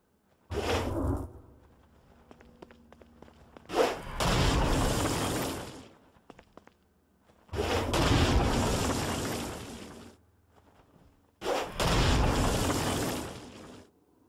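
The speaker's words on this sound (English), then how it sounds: "Stone Blast is especially useful on flying demons like this one." Stone Blast attacks against flying demons in Saints Row: Gat out of Hell, three loud, broad rumbling blasts each lasting about two seconds, separated by quieter mechanical ticking and hum.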